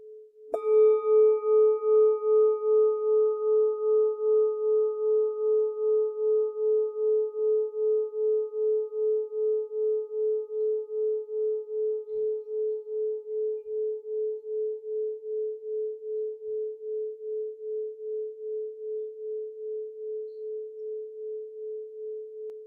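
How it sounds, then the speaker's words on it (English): A meditation bowl is struck once, then rings with a clear, pure tone that slowly fades and gently pulses over more than twenty seconds, alone in near silence. "Every time you hear the bowl, the sound, ask yourself the question,"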